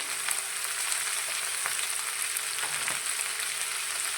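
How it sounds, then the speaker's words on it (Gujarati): Vegetables, Indian flat beans and eggplant with turmeric, sizzle in hot oil, a constant crackling fry with faint scraping as they are stirred in the pan; no voices. "બધા શાકને આપણે તેલની સાથે સારી રીતે મિક્સ કરી લઈશું"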